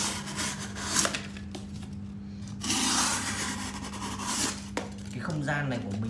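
A thick material being cut with a sharp knife in a cramped space, giving slow, rasping, scraping strokes that carry on steadily for several seconds at close range, with a steady low hum underneath.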